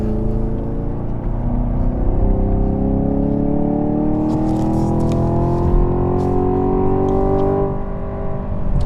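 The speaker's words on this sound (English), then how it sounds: "So they're hearing the sound of you shifting?" A 2024 Corvette C8 engine drones loudly and continuously on a fast lap, its pitch climbing smoothly and holding through the gears with no pauses or other sounds.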